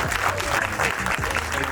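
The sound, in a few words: audience applause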